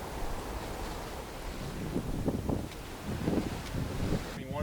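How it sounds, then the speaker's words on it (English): Strong wind roaring across a microphone aboard a sailboat passing through a gap between mountains on Lake Bras d'Or, a constant close buffeting rush with water splashing underneath. "we've gone from no wind to strong wind as we make our way through a cut between two mountains"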